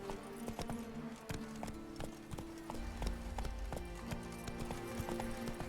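Horse hooves clip-clop in a steady trotting rhythm as Roach, Geralt's horse in the Witcher 3 video game, travels along with a low musical and ambient game background underneath.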